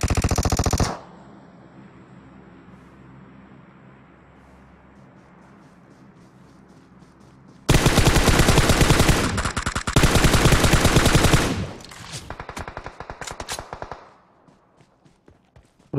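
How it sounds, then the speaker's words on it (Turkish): Loud bursts of automatic machine gun fire in a multiplayer shooter video game, a short burst at the start, then a long sustained volley after a quiet stretch, followed by scattered shorter shots that fade out. "Buraya sıkıyorlar."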